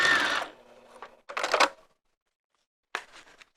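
Sewing machine stitching a vinyl zipper wristlet: a loud whirring burst of lock stitching at the start, then two shorter runs after pauses, close and alone with no talk.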